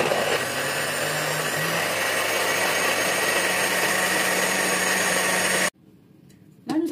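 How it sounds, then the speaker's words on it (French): Kitchen blender whirring through a green marinade, a loud, steady high-pitched motor whine sustained for several seconds before cutting off abruptly, followed by faint handling noises. "je vais mixer et je reviens"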